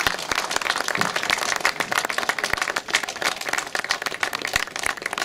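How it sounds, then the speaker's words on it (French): A crowd claps loudly and continuously for the organizers at the opening ceremony of the 18th World Carp Fishing Championship in France, dense applause with a few sharper claps up close. "il faut commencer avec un grand applaudissement à Fernand et tous ses amis"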